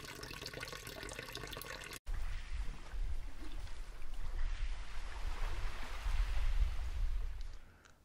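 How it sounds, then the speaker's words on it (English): Water splashes and sloshes steadily out of a Tarpon 120 sit-on-top kayak, a continuous outdoor pour lasting several seconds after a brief click, then tapering off near the end with no talking. "it's easy to empty water out of it."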